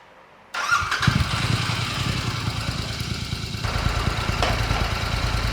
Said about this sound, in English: run the bike idle for about कितना 5-6 minutes?